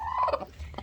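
A broody hen gives a short, agitated warbling cluck up close, a quick rising-and-falling call under a second long.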